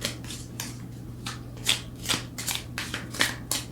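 Tarot cards are shuffled by hand in quick, rhythmic riffling bursts, close and fairly crisp, over a low steady hum. No one speaks.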